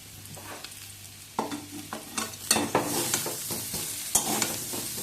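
Potatoes are stirred in a hot pan with turmeric and red chili powder for dum aloo, a spatula scraping and clattering over a steady sizzle that swells midway, close and with no talk.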